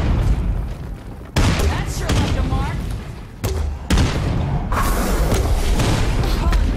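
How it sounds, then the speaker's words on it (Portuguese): Several loud booming grenade explosions in State of Decay 2 burst in quick succession with rumbling debris, while a person talks over the noise. "Três granadas e três tiros aqui com a com lança-granadas"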